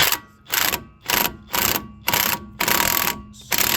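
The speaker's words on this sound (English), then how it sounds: "I'm going to spin it on very lightly with the impact" A pneumatic impact wrench fires in about six short hammering bursts, each separated by a brief pause, as it spins a hub nut onto a 2008 Hummer H2 front wheel bearing assembly, loud and close.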